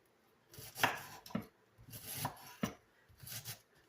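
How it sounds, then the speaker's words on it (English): A knife slices cabbage thinly for sauerkraut, giving five or six quiet crunching strokes in an uneven rhythm with short pauses between cuts. "So first we're going to start out with cutting our cabbage."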